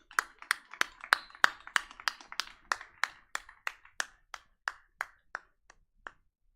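Audience clapping at a model UN closing ceremony, a run of distinct, fairly even claps that start dense and thin out toward the end, fading as the applause dies down, with no talk over it.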